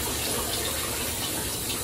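Shower water pours down steadily as a steak burrito is eaten beneath the spray, a dense, unbroken hiss of falling water filling the whole moment.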